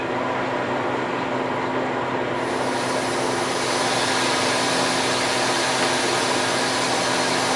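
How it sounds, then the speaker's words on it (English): A Harvest Right freeze dryer venting through its opened drain valve, a loud continuous hiss of rushing air that grows brighter a couple of seconds in and stays steady with no talk. "open drain valve to vent, so we'll go ahead and do that"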